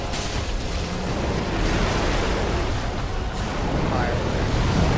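Darkeater Midir's fire breath attack in Dark Souls 3, a loud, continuous roaring rush of flame that fills the whole stretch with dense, noisy blasting, with a voice talking faintly underneath.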